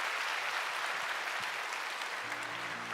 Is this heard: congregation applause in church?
yes